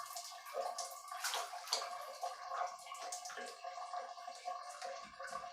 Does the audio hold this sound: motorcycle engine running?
no